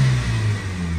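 A 1999 Toyota Corolla engine revs up close, a loud steady mid-pitched drone rising and holding with a slight dip partway through, alone without talking.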